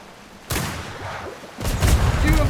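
Heavy booms come from a broadside of ship cannons in a naval roleplay video game. There are two loud, separate volleys about a second apart, and each one leaves a rumbling tail.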